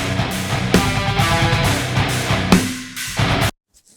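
A full music mix passed through a linear phase multiband compressor, dense and steady with rhythmic hits, playing loudly before cutting off abruptly near the end into silence.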